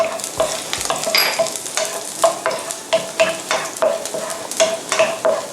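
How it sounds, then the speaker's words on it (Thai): Garlic stir-fries in hot oil, a loud and close sizzle under a regular rhythm of spatula strokes scraping the pan, with no talking. "พอน้ำมันร้อนแล้วเนี่ยเราก็เอากระเทียมนะคะ ลงไปผัดน้ำมันค่ะ"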